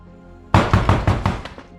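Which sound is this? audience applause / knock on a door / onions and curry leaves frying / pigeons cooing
knock on a door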